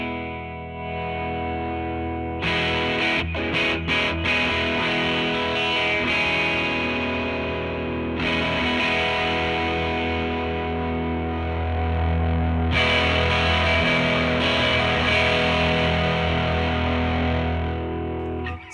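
Distorted electric guitar through an OBNE Beam Splitter pedal with stereo outputs blended, thick and sustained, with chorus-like shimmer and chord stabs between brief pauses, loud and up close.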